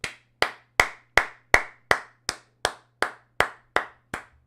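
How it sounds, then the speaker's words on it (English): About a dozen sharp hand claps at a slow, even pace, each one loud and close with a short decay, and no voices in between. "Can we get a round of applause real quick?"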